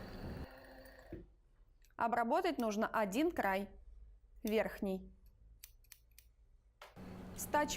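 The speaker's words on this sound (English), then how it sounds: "we need to edge the upper side of this detail with an overlocker" An overlocker edges the upper side of a fabric piece for a skirt slit: a brief whirring run at the start and another near the end, with someone talking in between.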